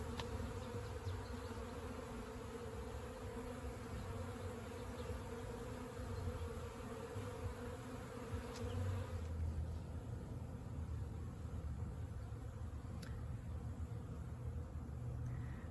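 A honeybee swarm hums steadily as it settles into a cathedral hive box, a dense continuous buzz of many bees close by with no talking.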